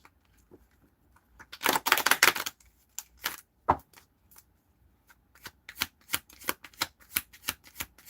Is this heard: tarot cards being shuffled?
yes